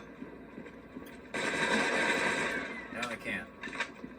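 Rapid automatic gunfire rattles in the mobile zombie shooter Dead Trigger, a dense burst lasting over a second and then a few shorter shots, heard at moderate level amid game sounds.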